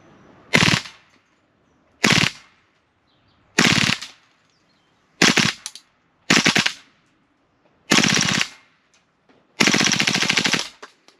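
An HK MP7 A1 gas blowback airsoft gun fires seven separate full-auto bursts of rapid, sharp clattering shots, close and loud, with short silent gaps between them and the final burst lasting longest.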